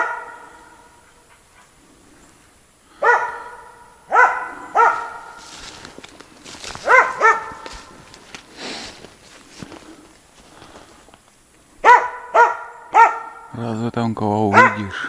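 A dog in a spruce forest barks at a large spruce tree in several spaced bursts of loud, close barks. Quiet rustling and a few footsteps fill the gaps, and a whining yelp comes near the end.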